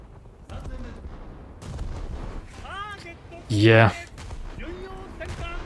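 Battleship main guns boom in World of Warships, with an Alaska-class ship firing on the player, as a single heavy, loud blast lands mid-clip amid lighter rumbling battle noise, with someone speaking briefly.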